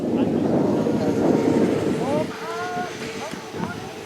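RC model airplanes, a gaggle of Oracle planes among them, sweep past at the Joe Nall airshow with a loud broad rushing roar that fades after about two seconds, while a voice talks.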